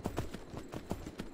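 Horse hooves gallop in the video game Myth of Empires, a steady rhythmic clip-clop of about ten quick, fairly faint strikes.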